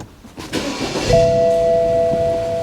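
A BMW 220i M-Sport's engine cranks briefly and catches, settling into a steady close idle with a faint high whine over the rumble.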